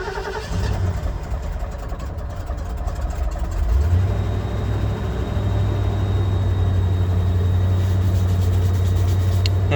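A car with push-button start cranks briefly and catches, then settles into a steady, loud idle with a constant low hum, following a fuel pump prime.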